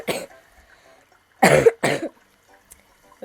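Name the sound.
cough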